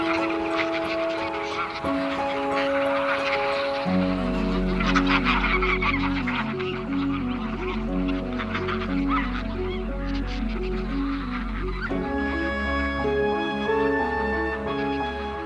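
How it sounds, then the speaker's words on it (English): Thousands of wild geese wintering on green pastures along the lower Rhine honk in a dense, continuous chorus, loud and layered, with a low droning tone beneath the calls. "The lush green pastures along the lower reaches of the Rhine attract thousands of wild geese in the winter."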